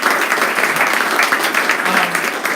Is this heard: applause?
yes